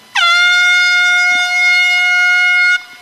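An air horn used as a foghorn signals a triathlon swim start, one loud, sustained, steady blast of about two and a half seconds that cuts off abruptly, alone and close.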